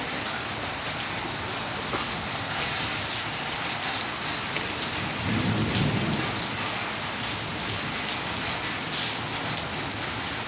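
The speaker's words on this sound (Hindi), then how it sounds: "देखिए बारिश कितनी तेज़ हो रही है।" Early-morning heavy rain pours down in a steady, dense hiss, with a low thunder rumble swelling briefly midway.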